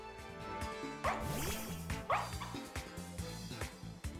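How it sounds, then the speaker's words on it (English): The cry of Fidough in Pokémon Scarlet, a game creature call resembling a dog: a couple of short, bright, playful yipping barks over a soft musical background, fairly quiet. "Oh my god, it actually sounds like a dog."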